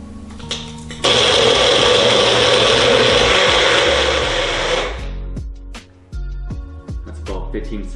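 A Magic Bullet blender blending fruit roars at a loud, steady whine for about four seconds, then stops, leaving clicks and handling noises while a person speaks.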